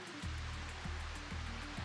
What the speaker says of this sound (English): this waterfall bit here is man-made